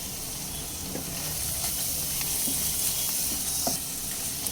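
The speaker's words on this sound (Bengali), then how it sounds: "গুঁড়ো মশলা দেওয়ার পর মিডিয়াম ফ্লেমে আরও 2 মিনিট মতো কষিয়ে নেব" Potato, pointed gourd and shrimp frying with ground spices over a medium flame, a steady hissing sizzle with occasional light spatula scrapes, close and continuous, no voices.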